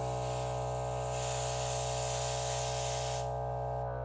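An airbrush sprays thin, watery paint for Warhammer miniatures, a steady close hiss that shifts in strength and cuts off near the end, over a constant low electrical hum from the compressor.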